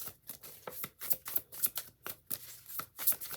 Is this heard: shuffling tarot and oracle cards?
yes